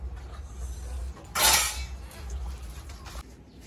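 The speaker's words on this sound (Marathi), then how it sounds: "भांडी कसं घासते आम्ही बघू तुला" Dishes being washed by hand, heard as a few soft clinks and scrapes of utensils with one brief splashing rush of water in the middle, over low background noise.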